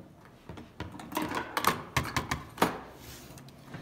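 Scissors cut a thermoplastic splint piece out of a plastic sheet, giving a close series of crisp snips and clicks at an uneven pace, quiet, with no voices.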